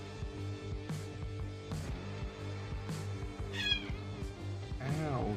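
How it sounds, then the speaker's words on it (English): A house cat meows a couple of times, short and close, while a person talks steadily over it. "Ow, says my cat."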